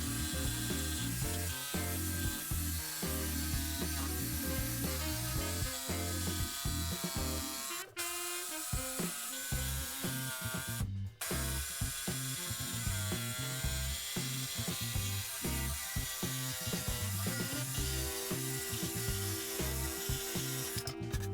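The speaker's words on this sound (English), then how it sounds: "a steady unending cut with the jigsaw for the ovals" Jigsaw cutting oval holes through wood for an assembly table, a steady unbroken buzzing cut that runs loud and close almost without pause, with only brief dips in the motor noise.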